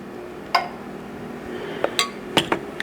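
Blueberries are folded into pancake batter in a bowl, with a few sharp utensil clinks against the bowl, one isolated, then a cluster near the end, over low background noise and no voices.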